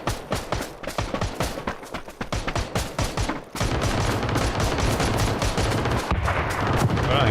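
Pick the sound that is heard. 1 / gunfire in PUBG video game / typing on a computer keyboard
gunfire in PUBG video game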